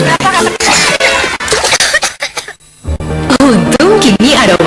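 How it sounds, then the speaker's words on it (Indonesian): A child coughing repeatedly in a loud, busy mix, the harsh bursts mixed with voices and background music, with a brief near-silent gap before talking resumes. "Batuknya datang lagi."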